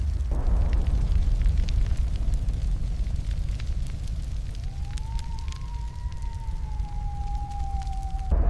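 Raging fire and rushing wind fill a film scene: a dense, steady roar with crackling bursts throughout, and a rising whistling tone joins in the second half.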